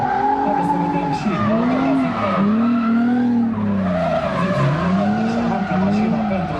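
A four-door drift car slides sideways at a drift event, its tires squealing loudly in long wavering howls over a constant engine roar, with a voice faintly underneath.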